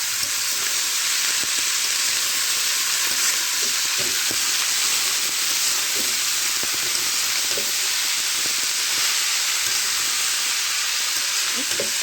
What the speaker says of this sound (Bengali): সবজি রান্না করছি